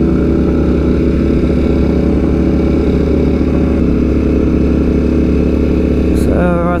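A Ducati motorcycle engine, either a Streetfighter V4S or a 1299S, runs with a loud, steady, close drone that holds evenly throughout, then briefly rises in pitch near the end.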